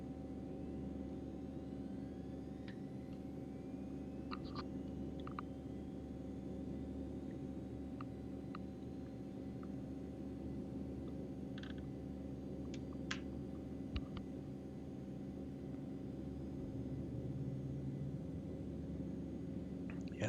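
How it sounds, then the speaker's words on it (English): Simulated Eclipse 550 jet engine number one spooling up in X-Plane 11, a steady low droning hum with layered tonal whine, joined by scattered faint clicks and beeps, with no talking. "All right, so let's do engine 1."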